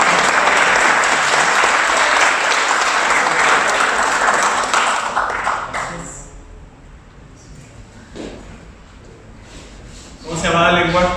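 Listeners at a BeerJS meetup talk about Arduino in Valdivia, Chile, break into loud, full applause for about five seconds. It then dies away, leaving quieter room noise and a few voices.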